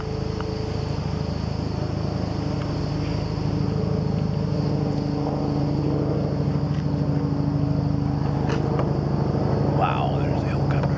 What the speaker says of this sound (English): Wow, there's a helicopter.